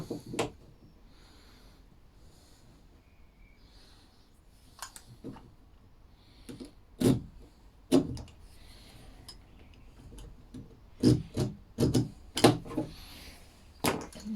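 A knife cuts into a wooden stud while a garage stud wall is being fitted, giving faint, scattered scraping and clicking cuts with quiet gaps between, close by and with no talk.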